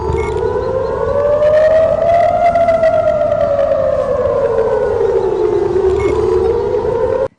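A civil defense air raid siren wails over Tel Aviv during a rocket alert, a loud sustained tone slowly rising and falling in pitch, sounding alone throughout.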